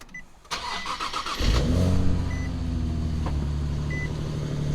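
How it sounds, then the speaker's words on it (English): A Nissan 370Z starts up close by: a click and a brief cranking, then the engine catches and settles into a steady idle hum, with faint electronic beeps. "Honestly, the car started."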